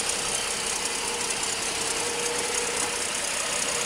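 Car engine with an exhaust leak, fresh spark plugs and an HEI ignition, running steadily: a constant, even mechanical hum and hiss at moderate volume, unchanging throughout, with no voices.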